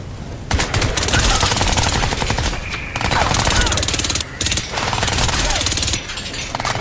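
Rapid automatic gunfire from an inaccurate weapon in the video game Crysis 3, sustained bursts broken by a few short pauses, loud and close, with a voice talking over it.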